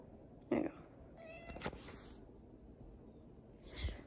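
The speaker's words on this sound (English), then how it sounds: "I'm gonna go look for my kitten because he is so small" A small kitten gives a short meow over a noisy room background, with a few faint sounds after it.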